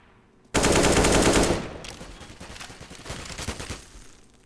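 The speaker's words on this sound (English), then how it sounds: "No early casualties of war, although Snacks is a little wounded from the exchange of gunfire, down to 25 health." Gunfire exchange in Counter-Strike: Global Offensive during a professional match on the Cobblestone map, opening with a sudden loud burst of rapid automatic fire, then continuing as scattered, fainter shots and clatter that trail off.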